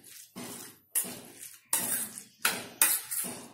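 Chopped vegetables being stirred into rava (semolina) batter in a bowl, five separate bursts of wet scraping and spoon clatter with short pauses between, close and moderately quiet.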